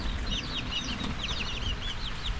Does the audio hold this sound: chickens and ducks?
yes